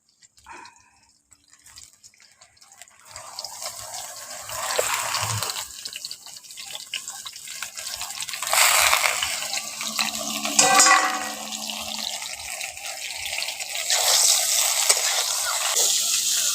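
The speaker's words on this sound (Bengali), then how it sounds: "এখন তেলটা হালকা গরম হয়ে গেছে, ওই তেলের মধ্যে পটলগুলো দিয়ে দিচ্ছি।" Pieces of pointed gourd (potol) go into lightly heated oil. After a quiet start, a loud, spreading watery hiss builds and holds, with brief crackling bursts and no talk.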